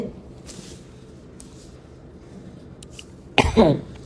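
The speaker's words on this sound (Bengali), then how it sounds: "দেখেন আমার কি পরিমাণ ঠান্ডা কাশি" A few sharp coughs from a person with a cold burst out near the end, loud and close, after several seconds of quiet room tone.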